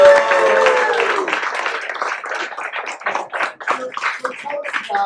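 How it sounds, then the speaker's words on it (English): An audience claps at a pageant-related talk event, starting with a brief swell that quickly thins into scattered, uneven individual claps fading out over a few seconds. "How about a round of applause for"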